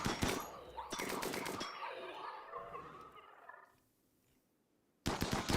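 Bursts of gunfire in the colony-survival game RimWorld, loud clustered volleys at the start and end with a quieter stretch of fading reverberant noise between, no talk.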